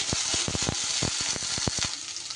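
Ginger and garlic paste frying in a pan beside chopped garlic while being stirred, with a bright sizzle punctuated by a quick series of close spatula scrapes and taps.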